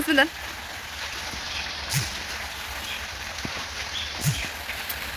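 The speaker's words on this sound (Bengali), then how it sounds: "অনেক বৃষ্টি হইতেছে সকাল থেকে" Steady rain hisses in a constant wash from morning into evening, broken by a few faint drips or knocks, while a person talks quietly over it.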